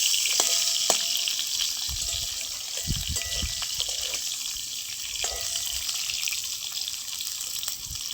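Milk is poured into sukto simmering in a pan, a near, steady watery pour and bubbling hiss that runs throughout with no speech.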